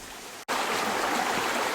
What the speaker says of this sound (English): You can hear the creek running behind me.